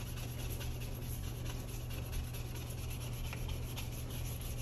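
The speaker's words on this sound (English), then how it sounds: "I always get my surface wet first, and then I go over it with the razor blade" A razor blade held flat scrapes residue off a wet surface during house cleaning, giving a steady, continuous close rasping with faint repeated strokes and no talking.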